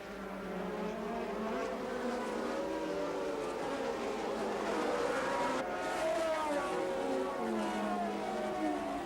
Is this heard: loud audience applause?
no